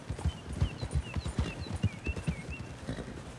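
Horse hooves clip-clopping in the Western video game Red Dead Redemption, a steady close walking rhythm of hoof beats with faint whistly tones above, no talking.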